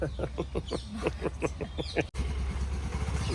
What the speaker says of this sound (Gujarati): બાકી એક્ટિવા ચલાવે યાર